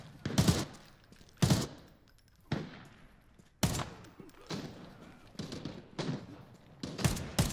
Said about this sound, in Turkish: Biri bana mı vuruyor?